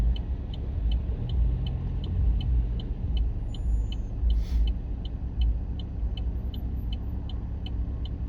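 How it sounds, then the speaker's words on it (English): A car approaches a roundabout, a steady road rumble that stays fairly loud and close throughout, with a faint regular ticking, like an indicator, over the top and no talk. "Still this car's coming."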